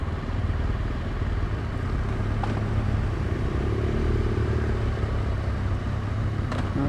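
A BMW GS Adventure motorcycle and a Kawasaki rumble with a steady, continuous low engine drone, close and fairly loud, with no speech.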